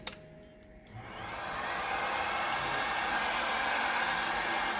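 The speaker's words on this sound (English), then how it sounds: "This way I can use my trusty heat gun yet again, and I'm going to do it on a lower setting, I think." A heat gun on a lower setting shrinks wrap with a steady blowing whoosh that starts after a click and a short quiet moment, then runs continuously and evenly close by.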